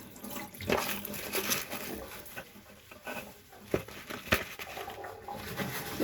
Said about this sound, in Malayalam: നമുക്ക് ഇതെല്ലാം ഒന്ന് കഴുകിയെടുക്കാം